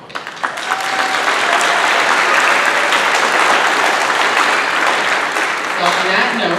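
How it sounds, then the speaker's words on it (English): A large audience at a practical nursing graduation ceremony applauds loudly and steadily, dense clapping rising quickly and holding for several seconds, with a few voices faintly mixed in. "And I have to applaud everyone."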